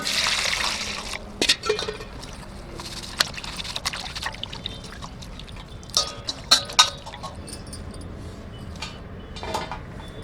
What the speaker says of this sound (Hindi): तो करी पत्ता और मिर्चा को हम साफ पानी से धो लेंगे।